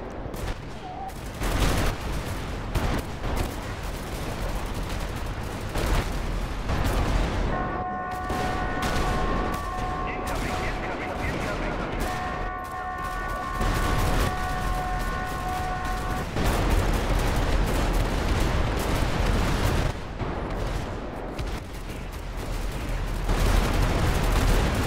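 Gunfire and rocket launcher strikes in a GTA 5 zombie-outbreak roleplay, with dense bursts of shots and heavy booming explosions running throughout, loud and chaotic, and a steady electronic tone in the middle.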